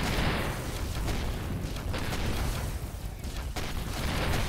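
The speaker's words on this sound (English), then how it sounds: "oh, that is a artillery ship. He also has the cannons." Heavy cannon and artillery fire from an artillery ship in the space game Avorion: a dense, continuous barrage of low booms and rumbling blasts rolling on throughout, loud and close, with no talk.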